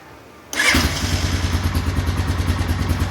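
A Honda Foreman 450 ATV engine cranks over and fires up after a half-second of quiet, then settles into a loud, steady, throbbing idle with rhythmic mechanical clatter.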